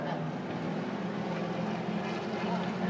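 A steady engine drone holds throughout, fairly distant and even, fitting a small MGB race car with a 3.5-litre Rover V8 running at the NZ Grand Prix meeting, with no clear pass-by swell.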